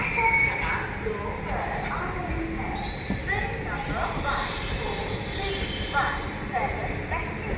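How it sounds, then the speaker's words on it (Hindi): An Amrit Bharat Express train rounds a curve near Ghaziabad Junction, with steady loud rumbling of wheels on rails and repeated high metallic squeals from the wheels throughout, a voice talking over the noise. "ये देखिए क्या कर्व ले रही है अपनी अमृत भारत एक्सप्रेस।"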